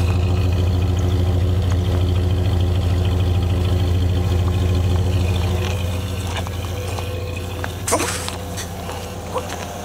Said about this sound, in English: 360 V8, two-barrel carburetor, 727 torque light transmission. Runs and drives great